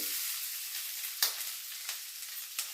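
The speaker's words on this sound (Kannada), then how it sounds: "ಇದಕ್ಕೆ 10 ರಿಂದ 12 ಮೆಣಸಿನಕಾಯಿ ಇಡ್ತೀವಿ ಆಮೇಲೆ ಕರಬೇಕು" Green chillies sizzle and fry in hot oil in a pan, a steady close hiss broken by a few sharp crackling pops, with no talk over it.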